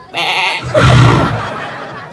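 A goat bleats up close, one loud wavering call that rises and then trails off over about a second and a half.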